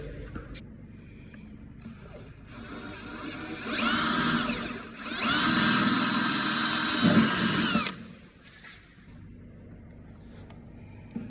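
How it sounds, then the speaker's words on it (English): A power drill whines loudly in two sustained bursts, drilling a hole in a bodykit panel on a Mazda RX-7, briefly pausing between them, then stops, leaving quieter handling sounds and a bit of background noise. "So if I drill a hole right there"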